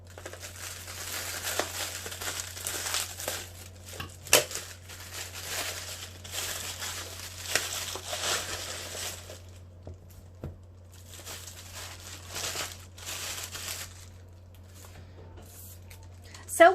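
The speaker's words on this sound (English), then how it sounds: "those terrible, horrible ripping noises that you get from opening bubble wrap" Bubble wrap packaging being opened at a desk, with scattered crinkling and rustling plus a few sharper rips, moderately close over a steady low hum, continuing through most of the stretch.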